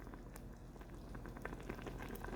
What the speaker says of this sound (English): you'll see that the mixture that we had just made is already starting to simmer